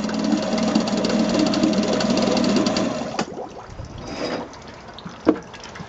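A Zundapp Type 304 5hp single-cylinder outboard motor runs with a steady rattling drone for about three seconds, then cuts off, leaving low gurgling water and a sharp knock near the end.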